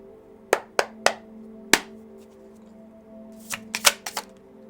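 Tarot cards handled and laid down from a deck, a series of sharp slapping and snapping hits, three in quick succession, a lone one, then a faster cluster of five, close over a faint steady hum.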